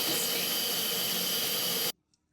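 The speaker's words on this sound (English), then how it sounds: "Excuse me for the background noise, but I have just turned my extractor on" A kitchen extractor fan running over cooking, giving a loud, steady broadband whoosh with a steamy hiss that cuts off abruptly after about two seconds, leaving near silence.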